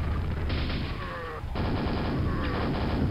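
A nail gun fires in the video game Quake, a loud, continuous rattling stream of shots broken by a brief pause, heard over steady game background noise.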